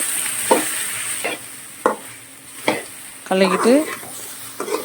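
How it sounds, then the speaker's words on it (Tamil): Okra being stirred while it fries in a pan, a steady soft sizzle broken by several short scraping strokes of a spatula, one slightly louder clatter near the end. "இப்போ எல்லாம் கலக்கி விடுவோம்."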